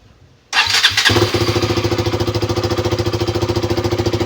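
A KTM Duke 200 motorcycle with a replacement fuel pump cranks briefly, fires and settles into a loud, close, steady idle with an even pulsing beat, with no voices.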